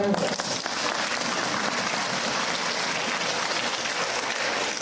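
A large crowd at a university convocation ceremony claps continuously, a loud, dense, rain-like roar of applause that stays steady throughout.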